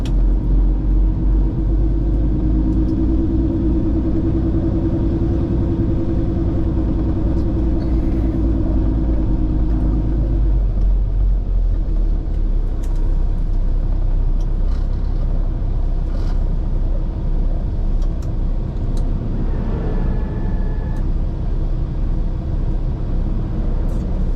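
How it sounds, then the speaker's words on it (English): Steady, heavy road traffic rumbles past on a busy Florida road, with a deep continuous engine drone and a passing vehicle that fades after about ten seconds, leaving lighter traffic hiss. "There's so much traffic right here."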